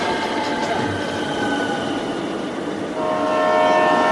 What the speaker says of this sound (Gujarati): હાલો ટ્રેન આવી ગઈ